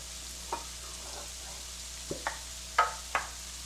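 A spoon stirring salt and pepper into Salisbury steak frying in a pan: four or five short scraping clinks against a low steady sizzle, close and fairly quiet.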